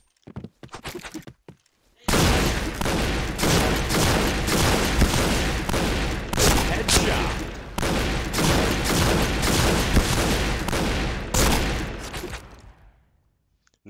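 Shotgun fire in a shooter video game booms in a rapid, near-continuous volley of loud, close blasts, preceded by a few scattered sounds and ending with a fade to quiet.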